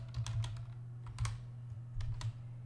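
Someone types PyCharm into the Ubuntu Software search on a computer keyboard. A handful of soft, close keystrokes click in quick clusters over a low steady hum.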